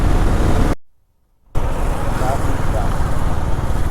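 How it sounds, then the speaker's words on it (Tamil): Steady traffic noise from engines idling and rumbling nearby in a traffic jam in Andhra, with a brief cut to silence partway through. "இந்த ஏரியா ஃபுல்லாக சரியான டிராஃபிக் ஜாம்ப்பா."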